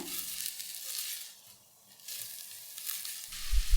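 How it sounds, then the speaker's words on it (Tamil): Finely chopped onions frying in oil in a pan for street-style egg rice, a steady close sizzle with stirring, dipping quieter for a moment before growing louder with a few thuds at the end. "வெங்காயம் சேர்த்திட்டு நல்லா சாஃப்ட் ஆகிற வரைக்கும் வணக்கி விட்டுருங்க."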